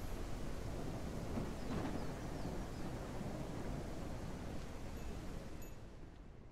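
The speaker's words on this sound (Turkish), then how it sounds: "biraz yağmur sesi tuttu ya. Çok gürültü yağıyor." Heavy rain pours in Ranch Simulator, a loud, dense, unbroken hiss with a low rumbling undertone that holds steady before easing slightly at the very end.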